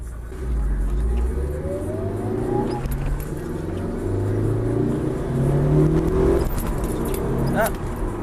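Subaru WRX pulls away from a stop at traffic lights, its engine droning and rising through the gears at close range, with a voice talking over it and keys jangling.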